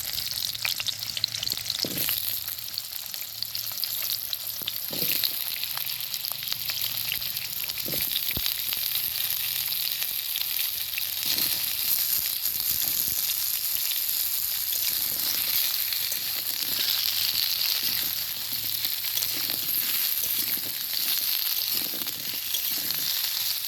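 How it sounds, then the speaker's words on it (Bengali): Potatoes frying in hot oil in a kadai give a continuous loud sizzle over a long stretch, punctuated by occasional sharp spatters and stirring clicks, with no speech. "এই গরম কড়াই তেলটা যাই গরম হচ্ছে, আলুগুলো দিয়ে লাল লাল করে ভেজে তুলে রাখবো।"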